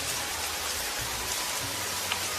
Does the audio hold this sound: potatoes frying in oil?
no